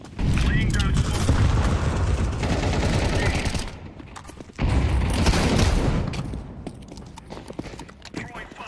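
Incendiary grenade in a video game, a loud sustained roaring burst of fire and crackling that cuts off, then flares up again before dying down, with gunfire and a voice talking over it.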